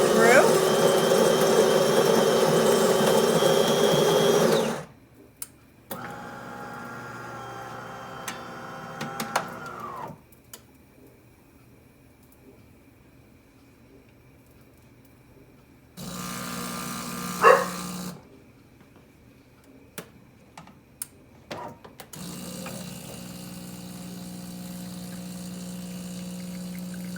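A Delonghi Magnifica S espresso machine brews an espresso: a loud grinding burst opens, then quieter pumping and whirring come in separate bursts with near-silent gaps between them.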